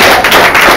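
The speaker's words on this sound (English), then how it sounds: "How about a round of applause for all your wait staff who've been taking care of you tonight?" Audience applause for a restaurant wait staff at the end of a dinner show, a dense steady wash of clapping throughout the short burst with no voices on top.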